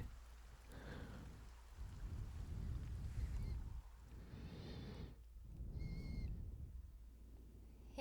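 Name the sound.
rain falling in the Dragon Quest HD-2D remake video game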